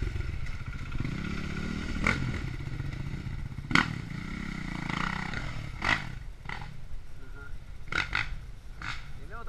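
A motocross motorcycle revving as it rides downhill on a hillside trail, its engine note rising and falling in repeated bursts with sharp clattering peaks, while voices shout encouragement throughout.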